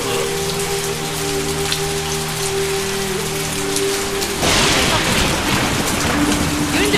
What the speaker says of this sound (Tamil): ஒரே மின்னல் மழையுமா இருக்கு